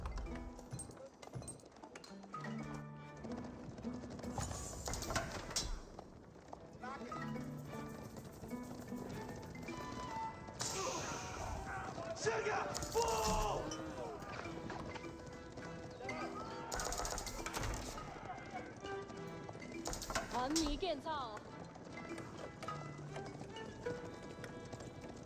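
Cavalry horses in Age of Empires 4 gallop in a real-time strategy battle, rapid clip-clopping hooves running under a dense mix of other game sounds that swell and fade throughout.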